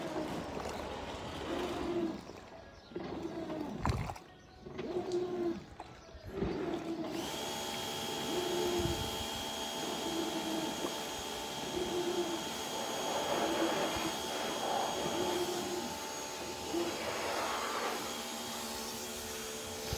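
An Electrolux LT15S 15 kg turbo top-load washing machine agitates a foamy load, giving a steady churning motor hum with a swishing rhythm, broken by a few uneven surges early on, then running continuously.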